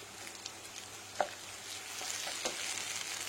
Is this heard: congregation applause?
no